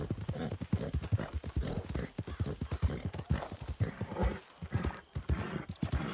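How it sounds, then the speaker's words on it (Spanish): Horse hooves clip-clop steadily in Red Dead Redemption 2, a brisk run of close, loud footfalls, with the horse briefly whinnying partway through. "Ahora tengo un dálmata por caballo."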